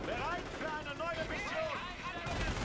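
Machine-gun fire from an infantry half-track shooting at infantry in the Company of Heroes video game, a dense, continuous rattle of shots with battle noise, running under someone talking throughout.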